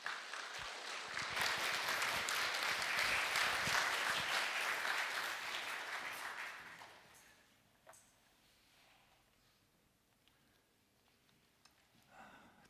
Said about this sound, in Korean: 우리 박수로 환영하면 좋겠습니다